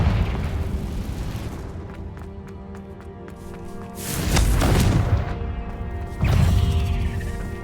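Bombarda and Confringo explosion spells in Hogwarts Legacy go off as two loud, booming blasts a couple of seconds apart, each swelling into a rumbling crash over continuous game ambience.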